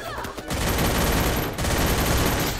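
Loud, dense video game gunfire: rapid automatic bursts and overlapping shots keep up an almost unbroken barrage, with a short break near the start.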